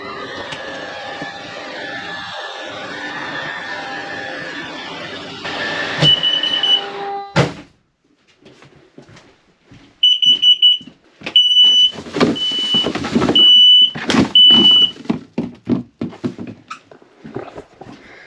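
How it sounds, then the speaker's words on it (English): An RV slide-out motor runs steadily and then jams against a trash can left in its path, followed by knocks, scraping clatter and a chirping electronic alert beeping repeatedly nearby. "I had a trash can in there and it did not clear. That was that sound."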